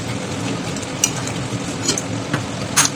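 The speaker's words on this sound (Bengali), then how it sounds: "এবার একটু নেড়ে ছেড়ে নেবো।" Butter chicken sizzles and fries in a pan while being stirred, a steady close crackle with occasional scraping clinks of the utensil against the pan.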